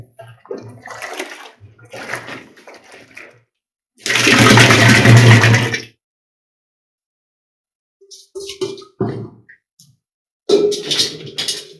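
Cow urine poured from a container into a can for making panchakavya, a dense splashing gush lasting about two seconds, loud and close, set between stretches of talk.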